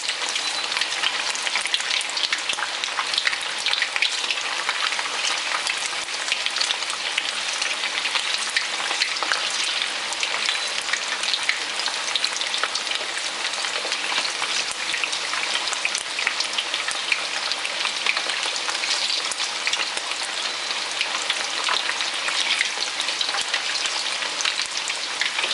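Chicken pieces frying in hot cooking oil for sweet and spicy fried chicken, giving a steady, dense sizzle and crackle that holds loud and even throughout with no talking.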